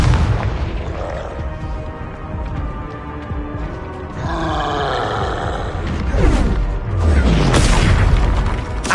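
Confringo blasts from the Hogwarts Legacy spell battle boom and roar over dense game music and effects, several heavy swells building toward the end.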